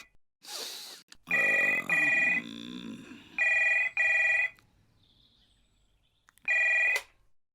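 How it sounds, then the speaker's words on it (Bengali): A landline telephone rings in repeated electronic double bursts, loud and close, with short gaps between rings and a brief voice early on. "ল্যান্ডলাইনে ফোন করে দেখি"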